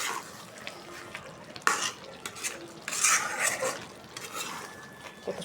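A spoon stirs fried onions and rice in a cooking pot, scraping and clinking against the metal close up with a faint sizzle in irregular bursts.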